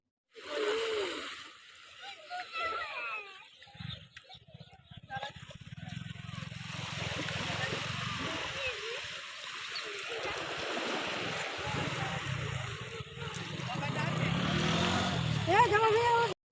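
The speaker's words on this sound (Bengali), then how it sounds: "দেখুন কি ভালো লাগছে ঢেউয়ের শব্দটা" Sea waves wash and splash continuously at Kuakata beach, Bangladesh, a broad hiss rising and falling, with voices heard faintly at times.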